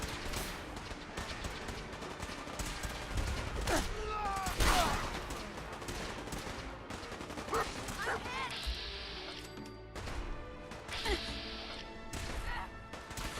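Distant gunfire from Gunners fighting the Brotherhood in Fallout 4, scattered cracks and bursts with crashing impacts spread across the scene, sitting under background game sounds.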